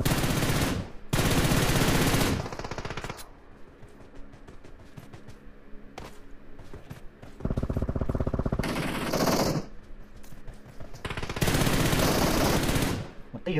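Loud automatic gunfire from the mobile battle royale game PUBG Mobile, in long sustained bursts separated by quieter gaps with scattered single shots.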